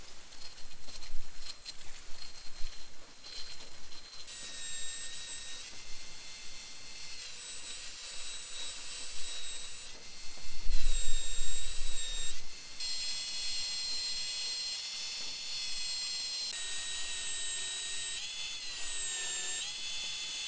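Power sander grinding the cutting edge of a hand-made steel gladius sword blade, a steady high whine with shifting pitch as the metal is pressed and moved across the belt, nearby and fairly quiet.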